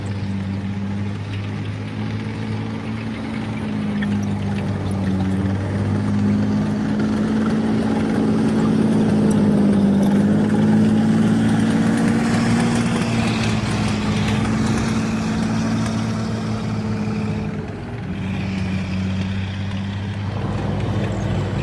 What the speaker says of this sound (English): And this is the Chrysler multi-bank engine where they get a whole load of car engines.